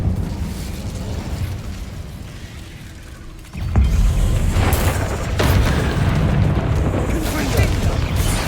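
A Confringo spell explosion in the Hogwarts Legacy video game lands as a loud, heavy boom, followed by a sustained rumbling blast and crackling debris.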